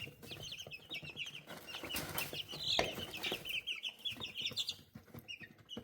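A small flock of young chickens clucks and peeps close by, with a rapid chatter of high calls running throughout and a brief flutter of wings partway through.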